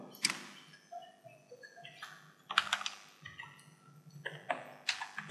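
Typing on a computer keyboard to enter login details on a web store's home page: bursts of quick, close key clicks in uneven runs, with short pauses between them and no talk.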